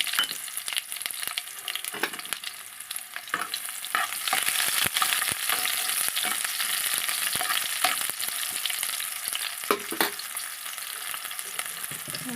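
Onion and garlic fry in a hot tempering of mustard and cumin seeds for a broad bean stir-fry, giving a steady loud sizzle with scattered crackles and pops and no speech throughout.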